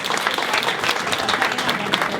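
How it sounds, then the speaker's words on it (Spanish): An audience at a 2016 conference applauds a speaker being introduced, with loud, close, dense clapping from many hands that continues evenly throughout. "El aplauso entonces para la doctora Marcela Falabella"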